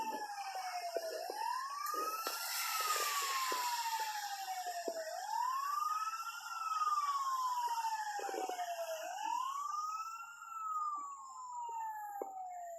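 A fire truck siren wails in repeated rising and falling sweeps, a clear cycle roughly every four seconds, heard at moderate distance over faint background clatter and street noise.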